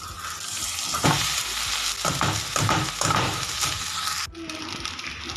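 Onions and rice frying in a pan, a steady sizzle with several sharp scraping stirs of a spoon, close and alone with no voices.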